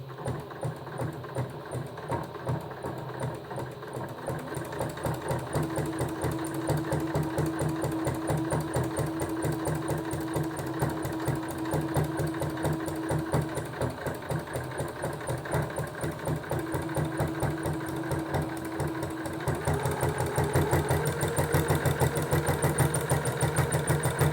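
A sewing machine stitches a cloth menstrual pad, running steadily at a slow even pace, with a continuous mechanical whir and rapid needle chatter throughout. The sound grows slightly louder near the end.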